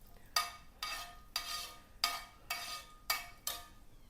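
Chironji nuts frying in a pan while being stirred, giving seven evenly spaced, soft scraping strokes with a faint sizzle between them; quiet and close, with no voices.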